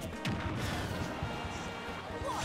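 A Piranha Plant's down smash connects in a Super Smash Bros. tournament match, a loud crashing impact inside a dense, continuous wash of game effects and crowd noise, with commentary talk nearby.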